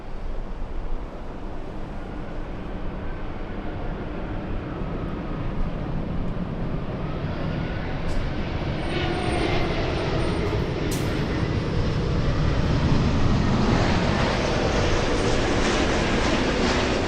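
A Lufthansa airliner at LAX, a loud, broad roar of jet engines that builds steadily and stays close, with no talking.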